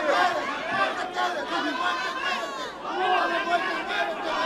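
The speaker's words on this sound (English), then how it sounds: "big reactions here from this Chumash crowd." Boxing crowd at a Chumash venue cheering and reacting to a hook exchange, a dense roar of many voices swelling and dipping, loud and close throughout.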